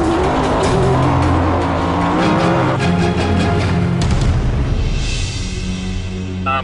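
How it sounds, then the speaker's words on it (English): A Ford F-150 pickup with an EcoBoost engine races in an off-road endurance event, its engine roaring loud and steady at high speed with brief tire noise, passing other vehicles throughout. "The EcoBoost engine powers the F-150 past all stock full trucks."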